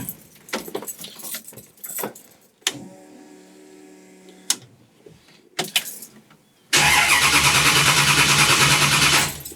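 Keys jangle and clatter as a car is readied, followed by a whirring starter crank and then an engine catching into a loud, steady idle. The car belongs to a build involving a 9 inch Ford rear end.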